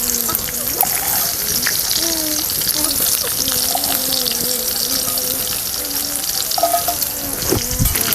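Chilies fry in oil with a constant loud sizzle and crackle, faint tonal clinks and a voice murmuring in the background.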